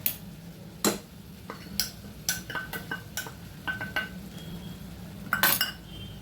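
Metal spoon clinking and scraping against a pan while stirring masala spices (coriander, jeera, haldi) for butter chicken, a dozen irregular sharp clinks over a faint low background hum.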